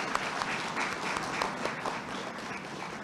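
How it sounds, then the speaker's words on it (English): An audience at a 2018 Independence investiture ceremony applauds the nominees, producing a steady wash of clapping that holds for a few seconds at moderate loudness. "Ladies and gentlemen, let's give them a round of applause."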